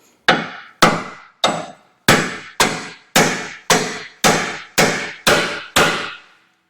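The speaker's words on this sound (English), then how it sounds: "I'm going to hit it here with a hammer" Eleven hard, ringing hammer blows strike the frame horn of a Ram truck at a steady, deliberate pace, each metallic hit loud and decaying quickly before the next.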